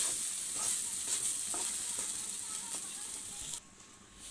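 Spice paste frying and being stirred in a kadai with rice, a soft steady sizzle under occasional scraping stirs, close but fairly quiet, ending abruptly.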